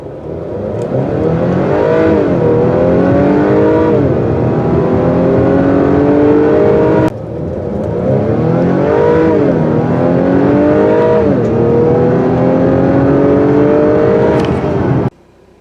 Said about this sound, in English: let's do a 0 to 60 time.